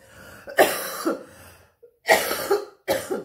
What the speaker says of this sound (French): si je me mets à tousser, c'est pas anodin